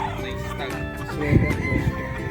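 A Sweater Boston White gamefowl rooster crows at moderate distance, a short strained call rising over a muffled background where people talk.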